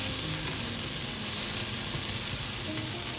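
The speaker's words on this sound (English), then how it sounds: "continue stir frying till they are lightly blistered" Chicken and green beans stir frying in a hot pan until lightly blistered, giving a steady, close sizzle and hiss that runs without a break and without any voices.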